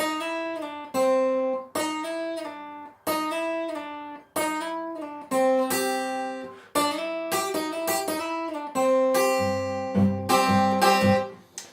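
A melodic blues guitar lick played alone, notes bending and sliding between pitches in short phrases separated by brief pauses, including a slide up from the 4th to the 5th then straight down to the 3rd.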